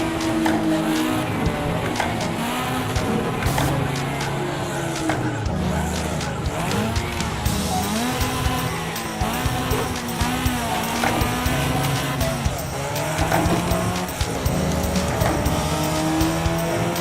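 Race cars scream around a track in a VR racing game, with engine whine rising and falling through gear changes and repeated tire squeal and skidding as the car slides, loud and continuous throughout.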